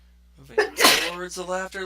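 A single sharp sneeze bursts out in a dark, quiet space, and a person speaks just before and after it.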